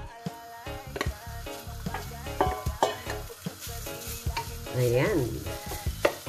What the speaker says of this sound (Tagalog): Lagay na po natin ang ating pancetta.